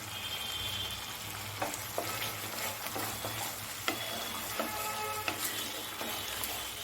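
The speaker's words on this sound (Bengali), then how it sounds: "এর মধ্যে আমি জিরের গুঁড়ো আর ধনের গুঁড়ো দিয়ে দিচ্ছি।" Ground cumin and coriander go into a pan of duck egg korma frying in oil, producing a steady close sizzle with light scraping stirs and small clinks from a spoon or spatula.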